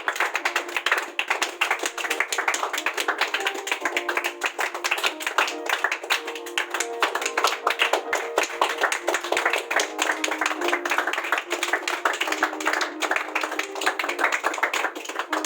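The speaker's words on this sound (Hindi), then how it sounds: "तालियों में कोई कमी नहीं" Audience clapping at a prize-giving event for students, continuous rapid claps from a crowd sustained steadily and evenly throughout, with no voices standing out.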